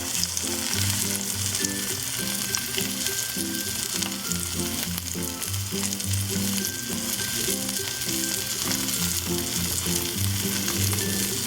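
A pesto meatball panini frying while pressed down under another pan, giving a loud continuous sizzle close by with faint scraping underneath and no voices.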